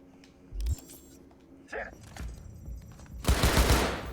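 A newly equipped gun in the video game Cyberpunk 2077 fires a loud, rapid burst near the end, after scattered thuds and other game noises.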